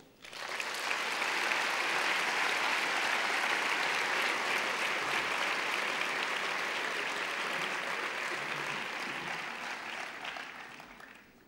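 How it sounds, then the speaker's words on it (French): Sustained applause from a large crowd, steady and loud for about ten seconds before tapering off at the end, with no voices over it. "Mesdames et messieurs, je crois qu'il convient de les applaudir."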